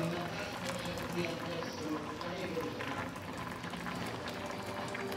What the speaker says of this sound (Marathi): आपण हे पाणी उकळवलं होतं हे त्यात टाकायचं.